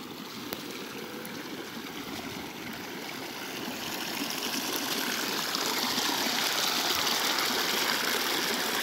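Near-boiling hot spring water bubbles and flows up from the ground, a steady rushing, gurgling wash that grows slightly louder partway through.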